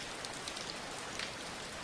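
Steady rain falls continuously, a soft even patter of drops on surfaces with no voices.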